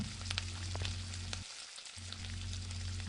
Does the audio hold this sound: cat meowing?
no